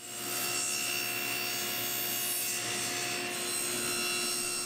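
A saw cuts a wooden miter joint with a continuous, steady, even-level cutting roar that holds throughout without pause, close and fairly loud.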